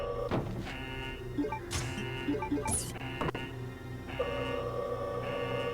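A 3D printer scanning an eagle plate in Resident Evil Code: Veronica X gives off a steady electronic hum with whirring sweeps, ticks and rising mechanical tones, fairly close and continuous with no voices.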